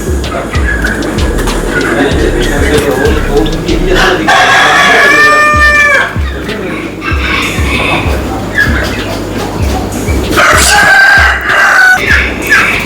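Birds at a farm house, among them chickens: a rooster crows loudly and close, with clucking and other bird calls layered over a busy background and people talking nearby.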